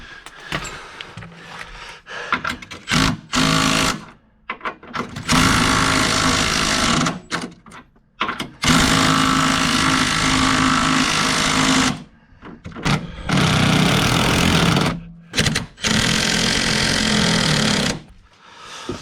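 Power tool tightening bolts on a B&W Turnover Ball and Companion Slider 5th wheel hitch: loud repeated bursts of buzzing, rattling drive, each lasting a few seconds with short pauses between.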